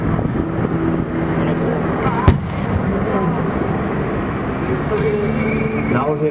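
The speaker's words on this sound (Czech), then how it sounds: "Nahoře odpálení je pravděpodobně elektrický. První výbuch, druhý." A sharp blast cracks out once during a Czech Army military demonstration with howitzers, standing over continuous background noise and someone talking throughout.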